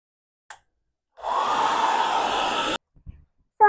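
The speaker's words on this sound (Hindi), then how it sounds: "मो ड्रायर रे अल्प किछि हेयर सुखे देची पूरा प्रॉपर सुखेनी" A hair dryer runs for about a second and a half in short bursts to dry hair indoors, a steady close airy whoosh that starts and stops abruptly, with brief clicks around it.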